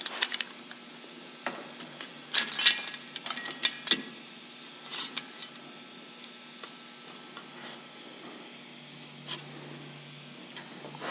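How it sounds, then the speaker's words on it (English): Metal workpiece being tightened into a bench vise, with a series of close, sharp ratcheting clicks and metallic knocks early on, then quiet room noise. "we are going to clamp this in our vise"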